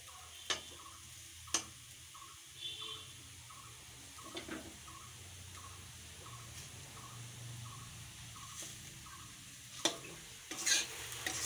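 Potatoes fry quietly in a pan with a soft, even sizzle. A few sharp utensil taps stand out, and a faint regular ticking runs in the background.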